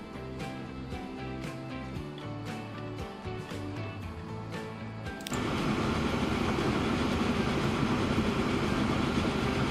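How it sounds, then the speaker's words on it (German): A train running in the video game Transport Fever 2, first a rhythmic clickety-clack of wheels over rail joints, then a sudden switch to a steady, louder rumbling rush as it continues past. "Ach, das ist der erste Zug."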